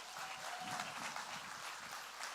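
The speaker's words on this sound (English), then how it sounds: "Please give a round of applause." A round of applause from an audience at a leadership coaching master class, steady, dense clapping that stays fairly faint and distant throughout.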